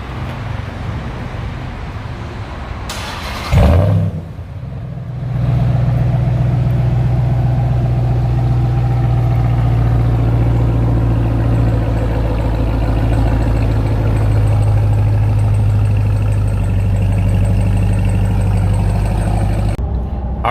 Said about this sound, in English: you just heard the first startup of the TRX